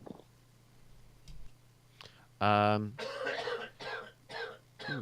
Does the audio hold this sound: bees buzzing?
no